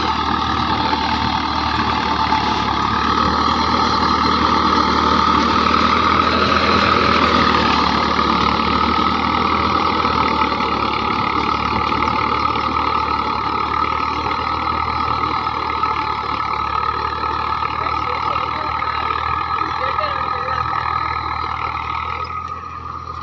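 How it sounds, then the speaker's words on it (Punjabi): A super seeder runs in a wheat sowing field, giving a loud, steady, continuous engine drone with a low rumble and a mid-pitched hum. The sound stays unbroken throughout and eases only slightly at the very end. "ਹਲੋ ਚੱਲਦਾ ਪਿਆ ਸੁਪਰ ਸੀਡਰ ਤੇ ਆਵਾਜ਼ ਆਪਣੀ ਬੈਠੀ ਵੀ ਹੈ"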